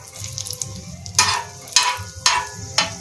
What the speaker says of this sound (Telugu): ఒక స్పూన్ నెయ్యి వేసుకొని జీడిపప్పులు వేసుకొని వేయించుకోవాలి.